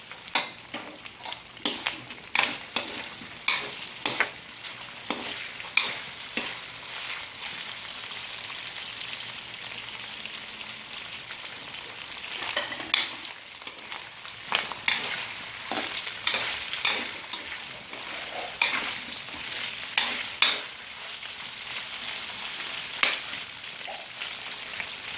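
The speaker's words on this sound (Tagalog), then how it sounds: "Tatakpan ko din ng hinte dahil yung mantika, titilantikan." Pork pieces fry in a small amount of oil in a pan, a steady crackling sizzle with frequent sharp pops and splatters running throughout, close and fairly loud with no talking.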